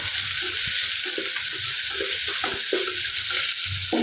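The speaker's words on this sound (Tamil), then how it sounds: "சின்ன வெங்காயம் எடுத்திருக்கேன் அதை இதோட சேர்த்துக்கலாம் நல்லா வதங்கட்டும் சின்ன வெங்காயம்" Small shallots sauté in hot oil for oats sambar rice, a loud continuous sizzle close up, broken by uneven scraping and clacking of a spatula stirring the pan.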